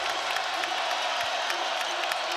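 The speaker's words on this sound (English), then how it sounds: "this pro-Kansas crowd starting to make some noise" A pro-Kansas basketball arena crowd cheers and roars steadily during a Big 12 quarterfinal game against TCU, a dense sustained wash of voices with scattered whoops.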